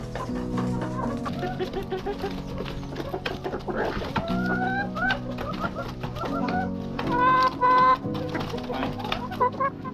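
A flock of backyard chickens clucks and squawks continuously, with overlapping calls near and far and a few louder outbursts.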